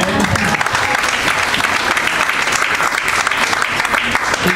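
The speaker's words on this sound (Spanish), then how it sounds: "Un aplauso para él." Audience at a live jazz café concert clapping, a dense, loud burst of applause filling the room continuously, with crowd noise mixed in.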